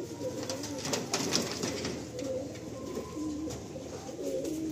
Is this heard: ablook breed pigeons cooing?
yes